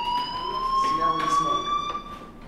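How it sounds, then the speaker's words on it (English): A fire alarm rings in the video game Life is Strange, giving a loud, steady electronic tone with a slightly rising pitch that continues without a break, with faint voices underneath. "Do you hear that fire alarm?"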